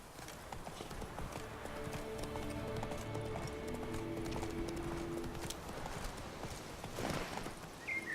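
Horse hooves galloping in the video game The Witcher 3: Wild Hunt, a fast continuous clip-clop rhythm over the whole stretch with a faint neigh, set against steady game background sound.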